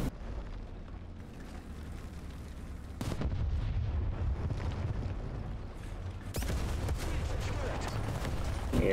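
A Begleitpanzer's 57mm autocannon fires in War Thunder, heavy booming cannon shots landing at about three and six seconds over a low rumbling battle background, loud and close.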